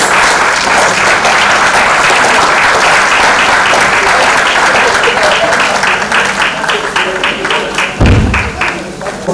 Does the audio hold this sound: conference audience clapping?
yes